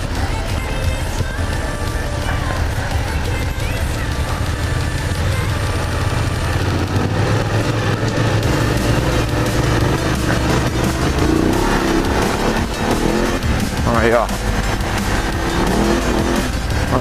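BMW F 750 GS motorcycle riding off-road, its engine droning loud and steady as the throttle opens and the rear wheel slides, with wind and chassis noise throughout and a rider talking over it.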